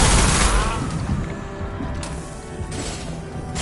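Impact-shot gunfire from Mass Effect 2, a loud crashing blast at the start followed by sustained combat noise and further booming hits, with voices talking over the fray.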